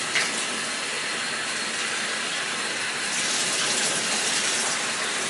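Hot water gushing steadily from a tap into a mug, a continuous hiss that grows slightly louder partway through, with no talk.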